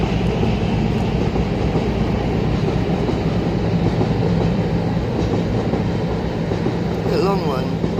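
A long train rumbles past nearby, a steady broadband roar of rolling wagons with faint rail clatter lasting throughout, and a brief higher squeal near the end.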